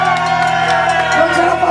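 A live crowd at a concert at Taverna dei Senza Nome cheers, whoops and shouts in a dense, steady wash of voices, with sustained music-like tones running underneath throughout.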